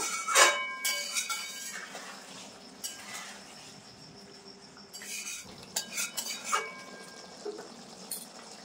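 Fried katla fish koftas dropped into a bubbling curry in a pan, with clinks of a metal spoon against the pan and soft stirring, a few sharp knocks standing out over a low simmer.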